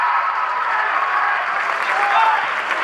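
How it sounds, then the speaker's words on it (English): A packed crowd roars and cheers steadily in a small, tight high school gym during a boys basketball group final, loud and sustained with applause mixed in. "you literally hear when the crowd goes crazy"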